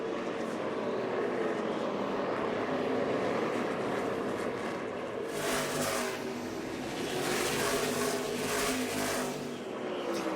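NASCAR Xfinity Series race cars run practice laps at Martinsville Speedway, engines droning and revving continuously as cars pass at varying distances, growing louder midway through.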